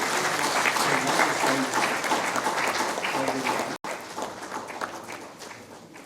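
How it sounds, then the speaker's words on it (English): Audience applause fills a hall at a hospitality HR summit after a keynote address, steady and sustained clapping from a large crowd that briefly cuts out near the end before continuing more softly. "A big round of applause, please."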